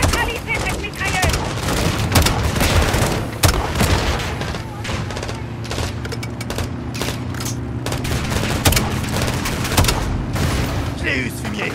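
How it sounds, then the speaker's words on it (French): Dense machine gun fire and explosions rattle through a battle in Call of Duty: Modern Warfare 2, with continuous bursts, heavy booms and soldiers shouting over the din. "Neutralisez cette mitrailleuse."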